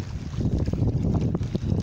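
Strong cold wind buffets the microphone by the sea during saltwater fishing, a continuous low roar and rumble with gusty swells.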